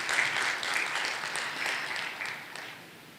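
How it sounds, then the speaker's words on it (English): A round of applause from the audience at an Islamic economics summit in Turkey: moderately distant crowd clapping, steady at first and then gradually fading. "With a round of applause"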